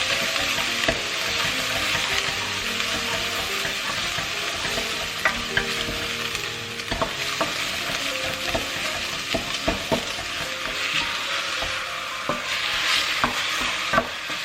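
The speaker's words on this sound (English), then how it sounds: "So saute for a while." Onion sautés with parsley in a pan for a plant-based bolognese, giving a constant loud sizzle broken by frequent sharp clicks and scrapes of a utensil stirring.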